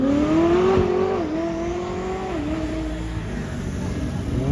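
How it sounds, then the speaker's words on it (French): A Koenigsegg Jesko supercar at the Le Mans 24 Hours accelerates past with a rising engine note and gear-shift dips, fairly near and loud amid crowd ambience. "Koenigsegg Jesko qui vient de passer, regardez"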